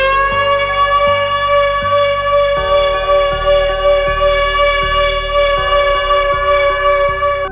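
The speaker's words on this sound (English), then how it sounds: "If you hear this siren, run immediately because this is the scariest siren sound in the world." The Zero Drone civil defense siren sounds a loud, steady howl with strong overtones. A low mechanical pulsing repeats beneath it, and no voices are heard.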